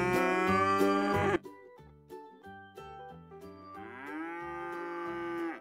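Cattle mooing in a series of drawn-out, harmonic-rich calls, one loud bellow followed by several shorter lowing sounds and a rising final moo, close by with no speech.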